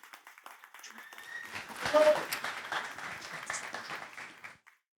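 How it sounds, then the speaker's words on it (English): Audience applause at a university speaker-series event welcoming an ex-Google software engineer, a steady moderate clapping across the room that builds briefly and fades out after about four and a half seconds. "Give a round of applause."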